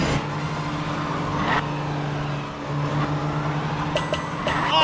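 A cartoon race car in a PJ Masks video game drives around a race track, its engine humming steadily with small revs and a few bright game chimes, close and moderately loud.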